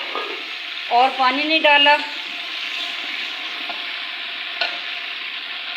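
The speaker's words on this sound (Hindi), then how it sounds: "तो अब डालने लगी हूँ मैं इसके अंदर, ये है इमली जो कि मैंने भिगो के रखी हुई है।" Soaked tamarind is poured into spices frying in a pot for a dhaba-style masoor rice dish, giving a steady, bright sizzle throughout with stirring, while someone speaks briefly near the start.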